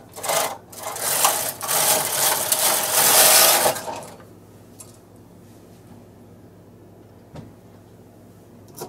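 A knitting machine carriage is pushed across one row in a single loud rasping, clattering sweep lasting about four seconds, followed by quiet with a faint click.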